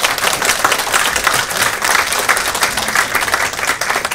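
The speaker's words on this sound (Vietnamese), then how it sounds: "Thì xin các bạn cho chúng ta một tràng pháo tay." An audience at a 40-year reunion in Seattle claps warmly and steadily, a dense, even wash of applause from a sizeable crowd, sustained throughout without speech.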